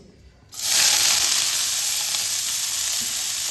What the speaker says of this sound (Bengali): সবজিগুলোকে আমি হালকা করে ভেজে নিচ্ছি